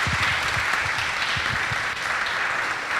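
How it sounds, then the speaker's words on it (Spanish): Audience applause closing a film event segment, a continuous dense clapping of many hands, steady and fairly close throughout. "cerramos con un aplauso final para María Cecilia."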